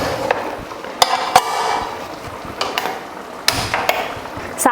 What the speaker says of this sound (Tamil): இப்போ குக்கர் மூடி போட்டுடலாம்.